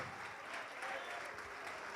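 A church congregation claps steadily and continuously, a dense, even wash of applause that sounds fairly far off and soft.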